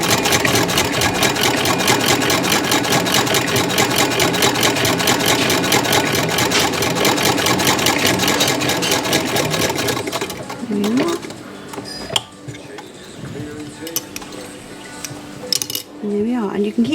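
1906 Singer sewing machine stitching fabric, a fast steady mechanical clatter for about ten seconds before stopping, followed by quieter handling noises and a voice.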